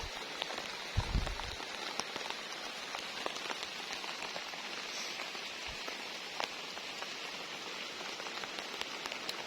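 Rain falls steadily on a garden, a dense continuous hiss of drops with scattered sharper taps and a couple of brief low thumps, alone with no talking.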